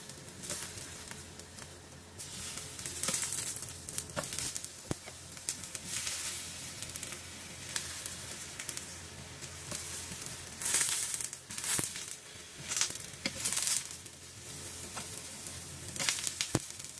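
Eggplant slices browning in hot oil in a frying pan, a continuous loud sizzle with crackles and occasional stirring or scraping sounds, no voices.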